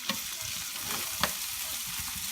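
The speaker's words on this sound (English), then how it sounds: "Brown all that up so it gets nice and brown and crispy." Cauliflower pieces and half an onion browning in a pan give a steady close sizzle, with a few sharp clicks and scrapes of stirring and no voices.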